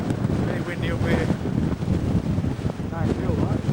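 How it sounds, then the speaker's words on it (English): Strong wind buffets the microphone at a high lookout in Australia, a continuous gusty roar with low rumbling swells that never lets up, and faint voice fragments drift underneath. "Very windy up here."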